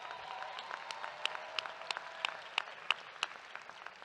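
Commencement audience applauding at a university graduate school fall ceremony, a moderately distant, steady patter of many hands with occasional crisp nearby claps, sustained throughout without speech.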